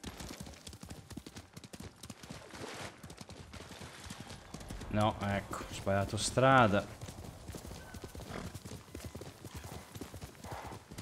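A horse in the samurai video game Ghost of Tsushima gallops with a steady clip-clop of hooves, then gives a loud whinny midway, while someone talks over the game sound.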